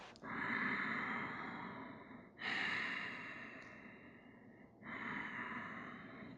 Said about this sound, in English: Steady, full, relaxing breath